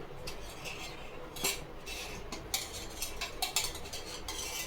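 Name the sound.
stirring gongura leaves and green chillies frying in oil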